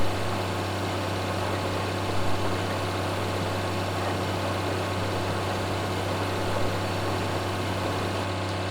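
Tractor engine in Farming Simulator 2013 idles and hums steadily at a constant pitch, loud and unbroken, with no voices over it.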